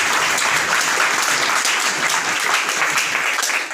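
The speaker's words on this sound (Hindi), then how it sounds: "इनके समर्थन में तालियां बजा दीजिए।" A college audience at a student interaction event claps loudly and continuously, a dense close wash of applause that holds steady and only begins to fade at the very end.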